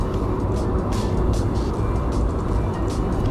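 Toyota Urban Cruiser on a road trip, steady broadband road and engine rumble from inside the moving car with faint passing whooshes, continuous and fairly loud throughout.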